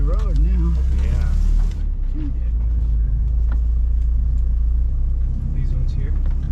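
A truck engine runs steadily with a deep, continuous rumble while driving along a wooded track, loud and close throughout, with voices talking over it early on.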